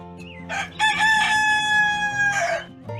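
A rooster crows loudly and close by in one long, drawn-out call, followed by a short cluck.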